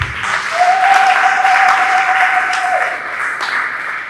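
A congregation at a French-speaking Christian church service applauds loudly in a dense, sustained wash of clapping and cheering, with a long, high held cry rising over the crowd in the middle.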